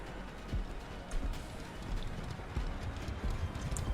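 A horse gallops in a zombie video game, its hoofbeats a steady, continuous clip-clop at moderate volume over a busy game soundscape.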